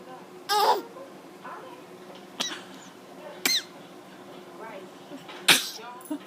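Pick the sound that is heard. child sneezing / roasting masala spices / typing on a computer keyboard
child sneezing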